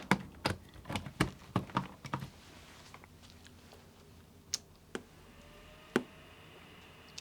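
A short run of quick, irregular key taps, then a few isolated clicks spaced out, close and fairly quiet with a faint hum beneath.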